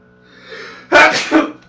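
A single loud sneeze bursts out after a soft breathy intake, with a brief second puff of sound trailing right behind it.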